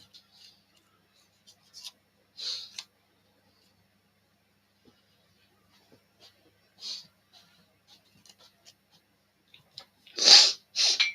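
Several short bursts of sneezing and sniffling from flour up the nose while baking occur, quiet at first and then a louder sneeze near the end, separated by near silence.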